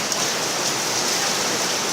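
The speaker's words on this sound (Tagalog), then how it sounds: "ang lakas-lakas ng ulan dito sa amin mga kanyubi. Malakas ang ulan." Heavy rain pours steadily outdoors in the evening, a dense, loud, unbroken hiss of water with no voices.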